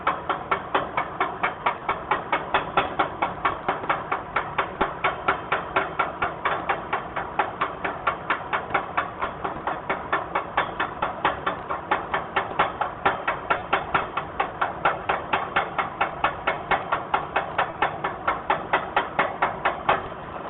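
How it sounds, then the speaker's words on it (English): A chipping hammer strikes rapidly and steadily on a weld, knocking slag loose in a long, even run of sharp metallic taps at close range with no talking. "Chip the slag off of it."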